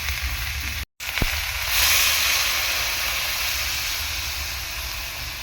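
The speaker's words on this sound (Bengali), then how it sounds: "এরপর আমি জল দিয়ে দেবো।" Water poured into a pan of sizzling fish curry made with mourala fish and himcha greens, giving a sharp burst of hissing steam that settles into a steady, loud sizzle after a brief silent gap.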